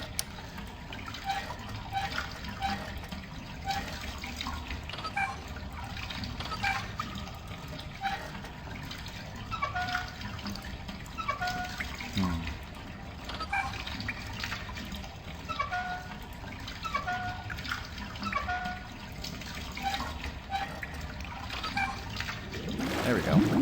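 Fountain water draining away in The Black Mirror adventure game's morgue level, a steady trickling, gurgling flow that runs throughout at moderate level, with talk over it.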